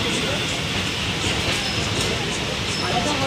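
Maa Tara Express passenger train pulling slowly out of Burdwan station, a steady close rumble of wheels and carriage noise throughout, with faint rhythmic clatter and a voice talking over it.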